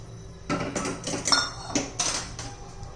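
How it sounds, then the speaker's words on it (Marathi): A corn soup being stirred in a pot, the utensil scraping and knocking against the metal in a few close, uneven clinks and scrapes with no talking. "एकसारखं हलवत राहायचंय आपल्याला हे सूप"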